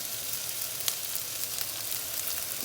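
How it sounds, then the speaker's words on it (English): Minced jarred garlic sizzles steadily in a hot pan in a home kitchen, a soft, even frying hiss throughout with no one talking. "So I'm going to saute that for a few minutes just until fragrant."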